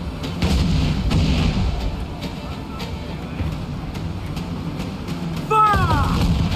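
Ship cannons boom in a naval battle in Assassin's Creed IV: Black Flag, heavy rumbling blasts rolling under shouted voices, with a rising whistle-like streak near the end before another loud burst.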